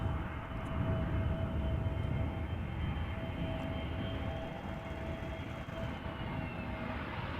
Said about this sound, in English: In the foreground we have an A320neo from EasyJet arriving from Birmingham.